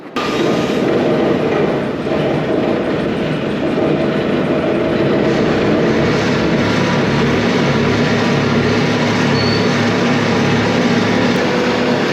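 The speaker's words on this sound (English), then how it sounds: "we got a cold start Bobcat edition" A Bobcat machine's engine cold starting, heard as a loud, steady mechanical roar that fills the whole stretch with a constant rumbling drone and no pauses.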